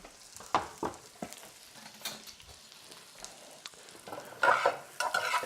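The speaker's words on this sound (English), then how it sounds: "I'm softening the onions as we speak" Onions softening in a frying pan, a low sizzle with stirring scrapes and clatter, louder bursts of frying toward the end, no voices.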